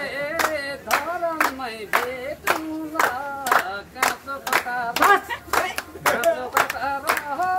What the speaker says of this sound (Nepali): सबैले ताली मार्ने है